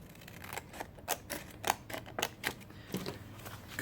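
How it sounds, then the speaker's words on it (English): Scissors cutting paper while making a winter-themed junk journal: a run of crisp, close snips at an irregular pace, with no talk. "Take your scissors."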